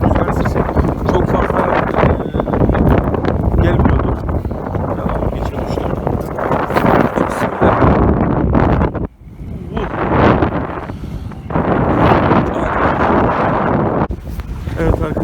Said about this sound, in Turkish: Şu an hava rüzgarlı.